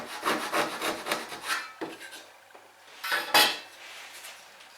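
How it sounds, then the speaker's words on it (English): Hand saw cutting the ends of a rebate in a piece of wood held in a vise, guided by a knife line; a run of quick rasping back-and-forth strokes, then a pause and a few more strokes, close up. "Now we can cut the ends of the rebate using the knife line to guide the saw."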